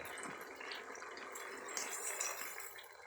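A small amount of water poured into a cooking pot of saucy food while stirring, a soft steady liquid trickle close by with faint clinks, no talking.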